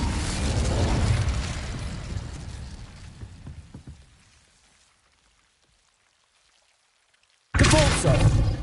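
An Incendio fire spell from a Harry Potter PlayStation 5 game, a loud rushing roar of flame that fades out over a few seconds into silence before another burst of sound cuts in.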